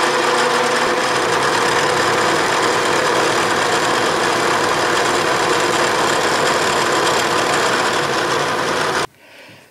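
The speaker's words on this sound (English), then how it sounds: "Okay, I have fed 50 thousandths in the x-axis, and I am climb milling." A Bridgeport milling machine climb-milling a chamfer, a steady loud motor and cutting drone running continuously at close range, then dropping away abruptly near the end.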